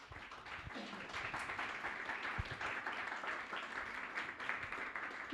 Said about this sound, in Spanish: Pues primero un aplauso para Andrea